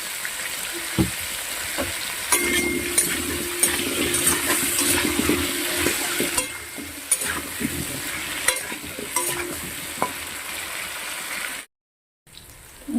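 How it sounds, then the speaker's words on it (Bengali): Potatoes frying in oil with turmeric and salt, a steady crackling sizzle with occasional stirring scrapes that runs for about eleven seconds before a brief silent gap near the end. "সামান্য হলুদ দিয়ে দেবো আলুটাকে ভালো করে ভেজে নেবো"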